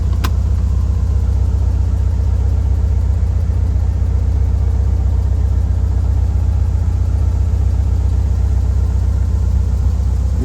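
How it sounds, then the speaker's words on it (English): A 1970 Volkswagen Karmann Ghia engine idling, a loud, close, even air-cooled putter holding a steady rhythm with no talk. "Car idles and just runs beautifully, as you can tell."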